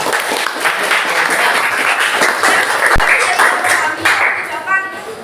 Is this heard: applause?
yes